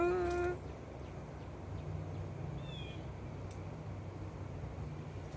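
A backyard cat gives a short, bright meow right at the start, followed by a faint chirp, outdoors against a low steady background hum.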